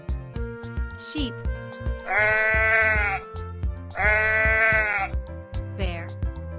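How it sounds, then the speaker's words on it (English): A sheep bleats twice, each call a wavering, roughly one-second baa separated by a short pause, over a rhythmic, cheerful music track. "Sheep."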